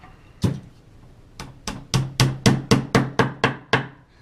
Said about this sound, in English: Now we're going to tap our dowels into it.